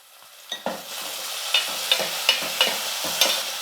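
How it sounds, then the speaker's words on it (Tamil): Onions and tomatoes sautéing in oil, a quiet sizzle punctuated by about eight sharp clinks and scrapes of a spoon against the pan, close up. "வெங்காயம் வதங்கிடுச்சு தக்காளி சேர்த்துக்கலாம்"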